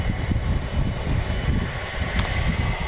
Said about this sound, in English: It's a A321 Neo, and I believe Turkish Airlines load these with the Pratt & Whitney engines